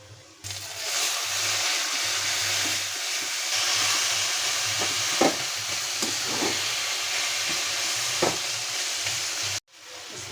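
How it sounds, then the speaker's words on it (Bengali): Mixed leafy greens frying in a pan over a wood-fired stove, a steady close sizzle that runs for several seconds with occasional stirring clinks and brief knocks. "আমি শাকগুলো এক এক করে দিয়ে দিই।"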